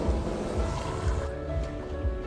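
Water gushes steadily from a Grohe kitchen mixer tap in a showroom, a close, continuous rushing stream with no voices.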